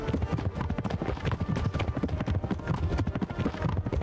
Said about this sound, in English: The sound of the horses sound awful.